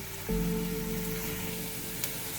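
Vegetables sautéing in four tablespoons of oil in a pan for fried rice, a steady close sizzle that swells after a faint start and holds, with a brief clink near the end.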